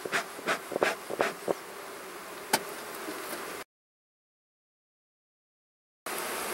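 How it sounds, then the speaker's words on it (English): Honey bees in an open beehive during a hive inspection, a steady close buzzing with several louder passes of individual bees near the ear, then a gap of silence before the buzz resumes. "See, there's a lot of bees, so it's a great hive to keep alive"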